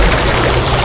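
A strong current rushes through shallow river water in Taiwan where a fishing net is set, heard as a loud, dense, close-up roar for under a second.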